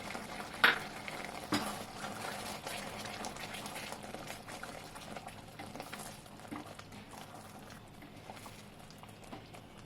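A sweet and sour mango mixture with jaggery bubbles steadily in a pan over high heat, giving a continuous soft simmering hiss with a couple of brief louder pops near the start.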